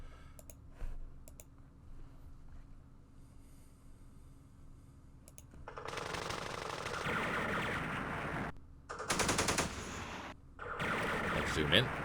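RPG and small-arms fire in the Vietnam War strategy game Campaign Series Vietnam, starting with faint scattered clicks, then dense crackling bursts of gunfire and explosions from about six seconds on, loud and sustained with a few brief gaps.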